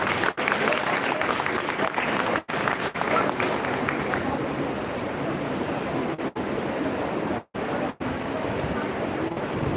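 Sustained audience applause greets girls from an evening school at an Independence Day celebration, a dense, steady wash of clapping lasting several seconds with a few brief gaps.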